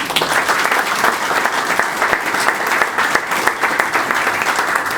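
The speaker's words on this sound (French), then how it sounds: "On peut applaudir." Dense, sustained applause from an audience at a book launch reception in a hall, loud and continuous, filling the room without any speech over it.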